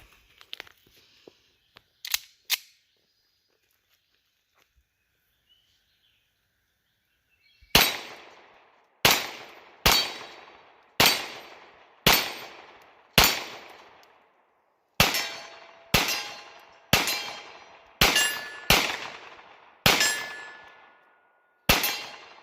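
A Girsan Regard 6 9mm pistol fires a steady string of loud, sharp shots, about a dozen spaced roughly a second apart. A few faint clicks and handling sounds come before the shooting, with quiet in between.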